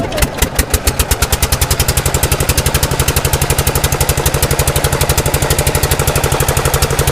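A trawler boat's engine idles loud and close at Kuakata sea beach, a steady rapid chugging knock that runs the whole time with no talk over it.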